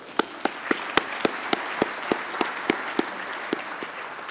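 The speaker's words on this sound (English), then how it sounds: "we can give him an applause for that also" Applause in the closing plenary of the UN Environment Assembly comes through as a crisp, evenly spaced run of sharp claps in a steady rhythm, standing out over a soft hall background.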